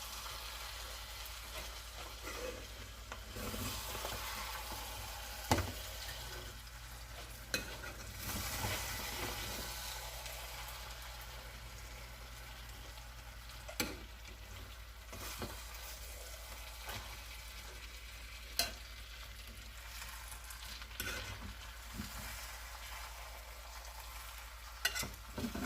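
Rice for arroz con pollo frying and sizzling in a pan while being stirred and tossed, a steady hiss with occasional sharp scrapes and knocks of the utensil against the pan, fairly quiet, no talking.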